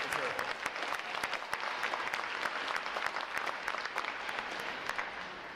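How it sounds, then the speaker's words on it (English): A crowd applauds unit and individual award recipients at a U.S. Navy boot camp graduation, with steady, dense clapping and sharp individual claps standing out throughout, moderately distant and sustained. "how about another round of applause for our unit and individual award recipients"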